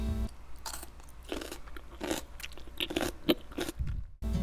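Crisp, wet crunching of pickled watermelon rind being bitten and chewed up close, several loud crunches in a row with no talking.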